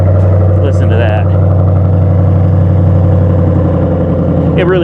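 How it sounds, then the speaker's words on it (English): A 2008 Ford Mustang GT with the 4.6 V8 and automatic transmission idles through its exhaust, a loud, steady low rumble held throughout while a person talks over it. "Fires right up. Good sounding exhaust. Listen to that."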